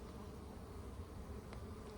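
Honeybees fly around a log hive outdoors, producing a faint, continuous low buzzing drone with no voices over it.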